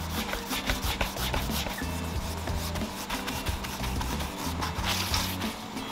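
Steady hand-rubbing of varnish off a wooden Jaguar XJ6 dashboard, a continuous close scrubbing texture that runs without pause for several seconds with no speech.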